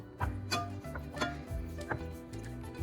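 Cooked pasta being stirred into a white sauce, giving soft, irregular wet clicks and light utensil taps against the pan in a quiet kitchen, with no talk.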